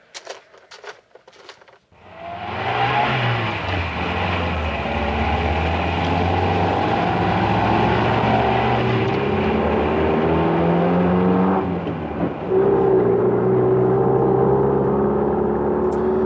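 In a French audio drama of Objectif Lune, a car engine starts up and drones steadily as the vehicle drives along, a loud continuous rumble with a brief shift around the middle before settling again.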